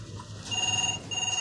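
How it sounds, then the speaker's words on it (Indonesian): An office telephone rings with an incoming international call, giving steady electronic tones that repeat in short bursts over a low hum, fairly close and moderately loud, with no talk. "Pak Wei, ada telepon internasional."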